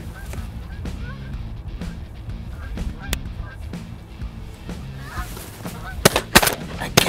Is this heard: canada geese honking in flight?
yes